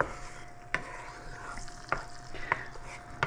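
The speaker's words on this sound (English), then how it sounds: "So we're going to start the process of getting this scrambled." Eggs and peppers scrambled in a pan with plenty of olive oil, a steady sizzle of frying broken by several sharp scrapes and taps of a utensil against the pan.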